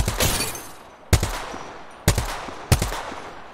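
Close, sharp gunshots from an Apex Legends firefight: four distinct heavy shots spaced about a second apart, each with a punchy low thump and a decaying tail, loud and isolated with no talking.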